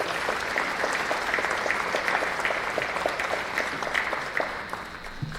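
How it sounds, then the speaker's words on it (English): Faculty and staff at an academic meeting clap together in a steady, crowded round of applause with distinct individual claps standing out, holding evenly before easing slightly at the end. "Let's give ourselves a round of applause for the great work."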